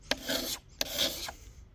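Two rasping strokes of a scraper dragged across wood, close and crisp, each about half a second, with a short pause between.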